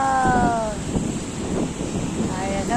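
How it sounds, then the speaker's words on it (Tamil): Ocean waves wash onto a beach on a Sunday morning, breaking softly close by under gusty wind rumble, with a few faint voices and light chatter mixed in. "மீனா பக்கத்துலேயே அலை வருது"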